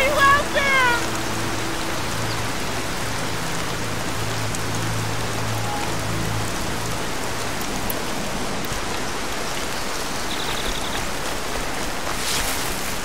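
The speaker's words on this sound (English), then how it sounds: "Oh man, the rain." Steady rain hissing in the video game Horizon Zero Dawn, an even broadband wash that runs the whole time with a few faint game tones on top, and a voice briefly at the start.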